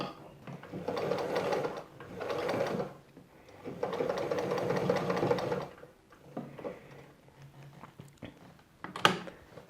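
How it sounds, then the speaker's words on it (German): A sewing machine runs a second seam on a denim cushion made from old jeans, stitching in three steady bursts with short pauses, then giving lighter intermittent clicks and one sharp tap near the end. "setze mein Füßchen direkt an der schon genähten Naht an und nähe meine zweite Runde"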